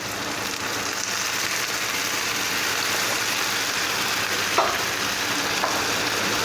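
Prawns cook on a high flame in butter-garlic sauce with a splash of added water, giving a loud, dense, continuous sizzle that holds steady throughout, marked by one or two faint stirring knocks.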